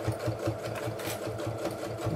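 A sewing machine runs steadily, stitching a fabric waist bag with a rapid, even mechanical chatter that stays close and continuous throughout.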